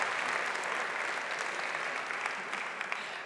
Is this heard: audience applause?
yes